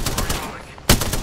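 Peacekeeper shotgun gunfire in an Apex Legends-style battle royale match, a busy stretch of rapid game firing capped by one sharp, loud blast near the end, close and dense.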